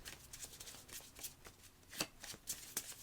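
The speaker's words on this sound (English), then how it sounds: "it looks like I'm just giving the cards a shuffle" A deck of Pokémon cards gets shuffled by hand at speed in short bursts of crisp riffling and snapping. The sharper flicks come near the end. The sound is close and quiet, with no talking.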